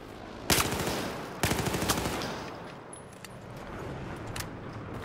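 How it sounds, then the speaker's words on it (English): Gunfire from enemies firing out of building windows in a first-person shooter, two sharp loud bursts early on, then scattered fainter shots and game ambience. "I think they're shooting us from the windows."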